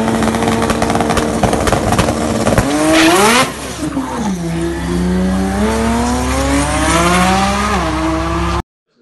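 A heavily boosted Toyota Supra makes a drag racing pass at TX2K, its engine roaring loud and close with rising pitch through the gears, a brief dip at a shift, then sustained high revs until an abrupt cut.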